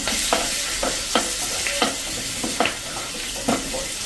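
A spoon stirs a sizzling vaghar tempering with julienned ginger in a pan for chikori chole, roughly regular scraping strokes over a constant hiss, close and fairly loud.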